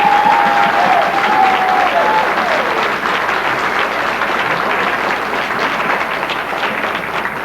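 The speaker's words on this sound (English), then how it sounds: "Can we give her a round of applause?" A crowd applauds at a debutante ball in Vallejo, California, with sustained loud clapping that fades slightly over several seconds and a faint whistle near the start.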